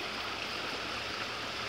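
Rushing river rapids at a state park, a steady broadband roar of flowing water that stays constant and close, with no voices present.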